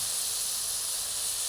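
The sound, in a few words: chicken meat frying in a wok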